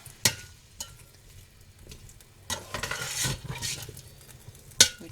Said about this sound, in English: To add some beef broth and deglaze those bits on the bottom.